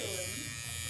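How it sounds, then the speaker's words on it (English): A tattoo machine held tightly in the artist's hand, giving a steady, close electric buzz with a constant hum throughout. "She's got a death grip over there on her tattoo machine."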